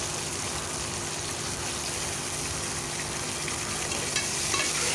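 Onions with chili powder sautéing in a pan, a steady soft sizzle and hiss with faint stirring, close and continuous, no talking.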